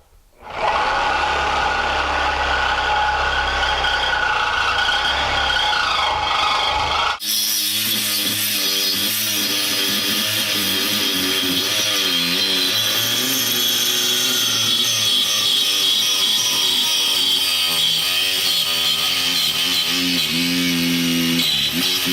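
A power saw blade cuts through metal lubricated with wax, a loud, continuous grinding whine that changes character after a sharp start, then holds a steady, harsh cutting tone to the end without speech.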